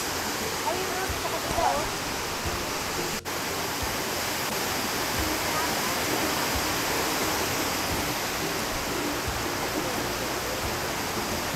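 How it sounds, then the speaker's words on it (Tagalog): A waterfall in Cebu, Philippines, roars as a constant broadband rush of falling water, loud and unbroken throughout, with faint voices briefly audible early on. "Eto, ang falls."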